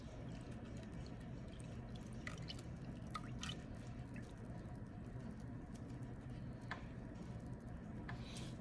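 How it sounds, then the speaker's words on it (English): Liquid with bee mites strained through a sieve, giving soft irregular drips and trickles over a steady low background hum, fairly faint and without talk. "Okay, so we're just going to strain this."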